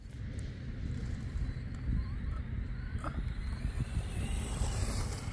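A Losi Baja Rey 2.0 RC truck drives nearby, heard as a continuous low rumbling motor and rolling noise with some wind buffeting.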